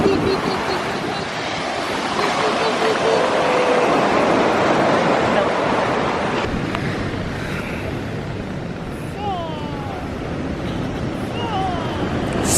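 Broadband wash of ocean surf breaking on a beach at Old San Juan, Puerto Rico, a steady roar throughout with brief voices and faint chirps over it.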